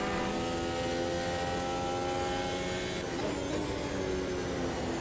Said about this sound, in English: the beautiful chuntering noise of a 4-stroke lawnmower engine on the back of that rental car